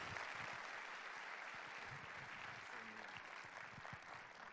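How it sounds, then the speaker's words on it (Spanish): A church congregation applauds in praise of the Lord for Pastor Emilio, a full, sustained roar of many clapping hands heard from a distance, quite faint overall but steady, with a few murmured voices blended in. "Yo quiero que usted le dé un aplauso al Señor por la vida del pastor Emilio en ese día"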